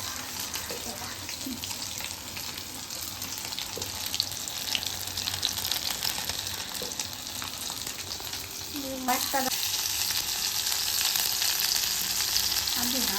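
Amudi fish fry in hot oil with a loud, continuous sizzle and crackle, joined by occasional clinks and a brief burst of talk near the end.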